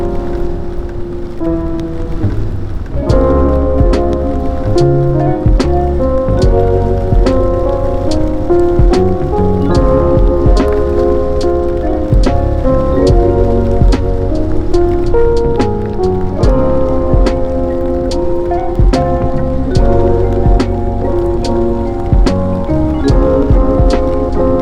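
Rain falling during a solo motorcycle tour, heard as a steady, loud wash of rain that runs the whole time, with a music-like tonal layer mixed underneath.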